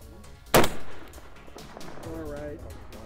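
A long-range rifle fires once, a sharp loud crack followed by a short rolling echo, with a voice talking afterward.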